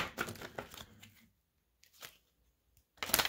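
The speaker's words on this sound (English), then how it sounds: "Let me just shuffle again." Tarot cards being shuffled by hand, quick papery riffles and slaps in short bursts separated by near silence, close and clear.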